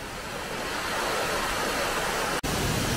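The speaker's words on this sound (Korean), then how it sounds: "바위 위를 흘러서 은구슬 그처럼 또르르 흘러가는 요런 모양의 폭포가 연속해서" Waterfall at the 68 Waterfalls in Xiaoqikong, Guizhou, a chain of cascades spilling over rocks, heard as a loud, continuous broadband rush of water that stays steady throughout with one very brief dropout near the end.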